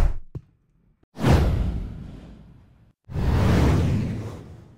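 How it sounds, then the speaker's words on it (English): Stock library whoosh effects: two broad airy swooshes, each swelling quickly and tailing off over a second or two, with faint brief sounds before them and no talking. "Let's type in whoosh for another example."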